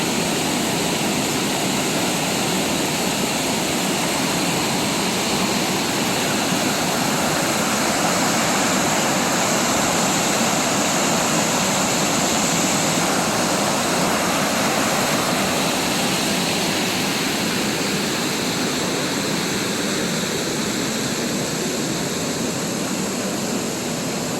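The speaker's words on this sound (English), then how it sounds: "This makes up the main falls." Powerful waterfall running at high water levels, roaring continuously, a dense, loud wash of falling water with no pauses.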